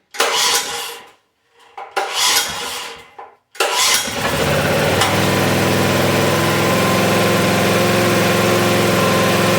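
A vintage Honda generator cranks in a few loud bursts with short pauses between them, then catches and settles into a steady, close running drone that holds for several seconds.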